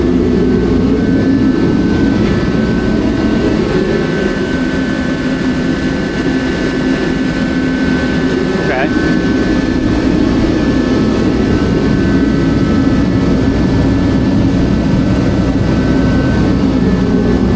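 A Mr. Heater Contractor Series propane and diesel forced-air blower heater runs indoors with a loud, steady roaring rush of fan and burner noise that holds constant throughout.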